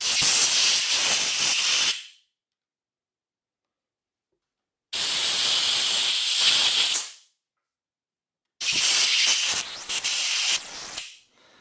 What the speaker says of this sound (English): I'm gonna use some compressed air to see if I can just blow it out of there.